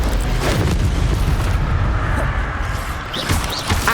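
Expelliarmus disarming spell cast during combat in Hogwarts Legacy, a loud booming magical blast amid continuous dense battle noise, rumbling low impacts layered throughout.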